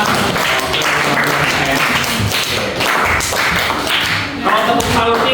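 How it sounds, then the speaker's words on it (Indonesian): Group 2 gets a classroom round of applause: loud, dense clapping and tapping from many students, continuous throughout with some thumps mixed in. Voices are audible in the mix. "beri tepuk tangan yang meriah untuk kelompok 2"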